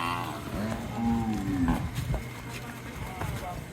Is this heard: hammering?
no